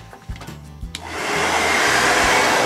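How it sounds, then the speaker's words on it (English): A handheld hair dryer, used to heat stickers off a large Lightning McQueen toy car, is switched on after a few clicks and handling knocks, then blows in a loud, steady, close whoosh. "So let's get the hairdryer going right now."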